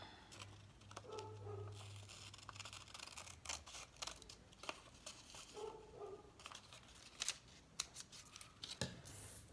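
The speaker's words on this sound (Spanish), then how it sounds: "Vamos a trazar una línea recta y vamos a recortar." Scissors snip through a paper pattern for a circular skirt, producing quiet, close crisp cuts with rustling paper between them and no talking.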